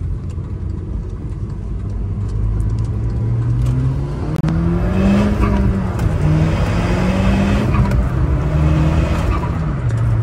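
A Volkswagen Golf R with no sound deadening drives along, its engine whirring and revving steadily up and down, loud and close throughout with no talk.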